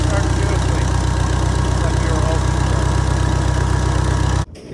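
A small engine started with the choke on runs steadily at a loud idle with a rough, even rhythm close by, then cuts out abruptly near the end.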